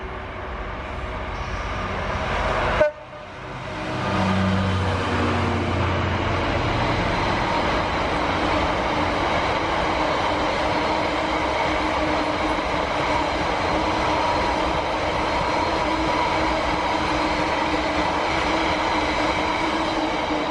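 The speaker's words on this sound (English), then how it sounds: "I think this is the freight that I've been waiting for" A freight train passing through Derby station, with a loud, continuous rumble and rolling rail noise of wagons going by close up, steady for a long stretch after a brief dip near the start.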